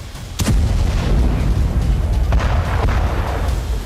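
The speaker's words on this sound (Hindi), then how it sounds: "ईरान में फिलहाल जो धमाके हो रहे हैं" Loud, rumbling explosions in Iranian cities, with a sharp blast near the start followed by sustained booming and crackling bursts, close and dense, with no voices.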